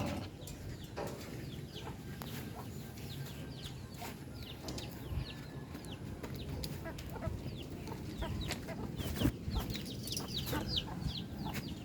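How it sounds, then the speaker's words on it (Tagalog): Chickens on a backyard farm: a young rooster clucking and calling among scattered hen and bird chirps, fairly close, with steady outdoor ambience throughout and no clear full crow. "Yan, isang tandang pa yan."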